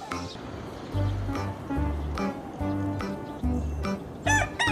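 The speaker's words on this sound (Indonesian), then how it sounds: "Wow, ternyata di sini ada ayam." A chicken clucks in short, repeated bursts at close range over a steady low rumbling background, with a higher squawk near the end.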